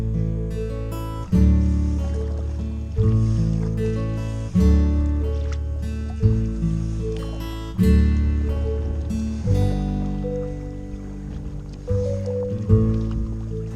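A Sevylor Adventure Plus inflatable canoe moves along a calm river in Norfolk on a still November day, with repeated hollow paddle strokes and knocks against the boat. Each comes every second or two, close and fairly loud, with no talk.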